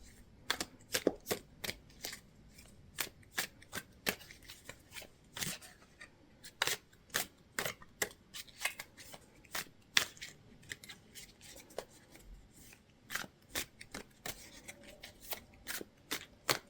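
Tarot cards being shuffled by hand, a rapid series of crisp riffling bursts repeating steadily throughout, close and fairly quiet with no talking.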